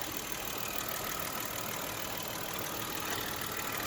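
A Kia Opirus car engine idles quietly and steadily, a soft, even hum with no voices over it.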